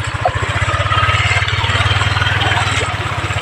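A motorcycle engine idles loudly and close on a slippery, flooded road, putting out a fast, even low-pitched chug that holds steady throughout with no talking.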